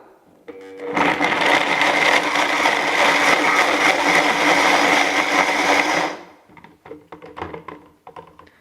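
A food processor grinds cashews with nutritional yeast, salt and garlic powder in one loud, close, continuous whir of about five seconds. It is followed by clatter as the bowl is handled.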